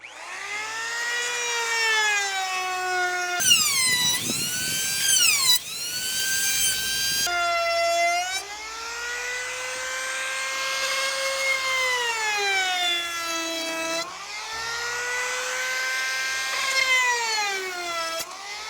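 A power tool cuts a juice groove around the edge of a handmade wooden cutting board, giving a loud motor whine that rises and sags in pitch under load, with a few rougher grinding bursts and no talk.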